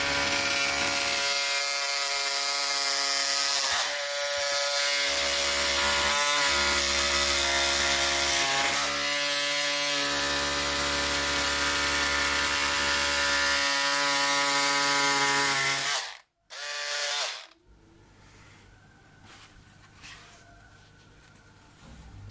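Electric scissors cut through four layers of medium-weight woven fusible interfacing, giving a steady buzzing motor whine with a rhythmic chattering of the blade that rises and falls. The whine cuts out near the end, leaving faint handling noise.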